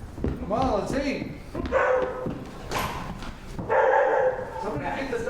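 A dog barks in a family home, several short bark bursts mixed in with voices talking close by.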